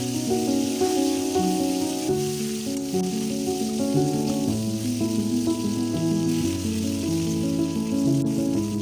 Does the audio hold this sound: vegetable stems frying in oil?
yes